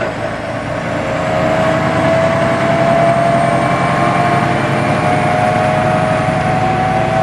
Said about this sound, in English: Pre-select forward to 8th, lift throttle, we're in 8th.